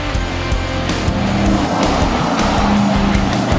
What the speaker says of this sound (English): Allows you to really put the power down coming off the corner. Real good power down acceleration off of that corner.